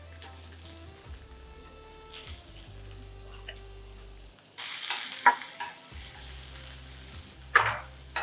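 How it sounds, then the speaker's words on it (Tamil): Onions and green chili sauté in a pan with a soft, quiet sizzle, punctuated by occasional stirring scrapes and a brief louder burst of frying. "இந்த அளவு பாருங்கள், வெங்காயம் வந்து லைட்டாக வதங்க ஆரம்பிச்சிருக்கு."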